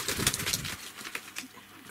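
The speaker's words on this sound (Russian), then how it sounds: "Настоящий голубь уже." A domestic pigeon, a nearly grown squab about nineteen days old, makes soft low cooing and fluttery sounds close by, with other bird noises mixed in and no talk.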